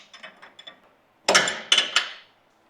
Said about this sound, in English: use a flare nut spanner to crack it off.